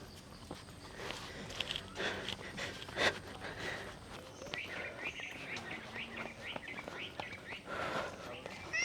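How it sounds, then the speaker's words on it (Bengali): Birds call faintly in the distance at a forested hillside spot in Nilachal, Bandarban, Bangladesh, with short chirps scattered under footsteps and a person speaking nearby. "অনেক দূরে পাখি শব্দ করতেছে, মানে পাখির আওয়াজগুলো এগুলো শোনা যাচ্ছে"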